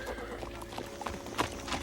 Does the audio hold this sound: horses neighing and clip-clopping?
yes